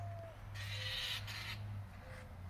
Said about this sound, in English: I think there are birds mating in the tree